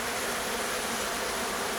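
Dense, steady honeybee buzzing at a hive in an apiary in spring, with no pauses, loud and close, many bees humming together throughout.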